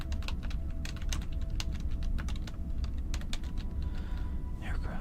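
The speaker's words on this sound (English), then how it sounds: "I was busy unplugging my keyboard so I could type on it" Fast typing on a computer keyboard, with dense, irregular clacking keystrokes close to the microphone over a steady low hum.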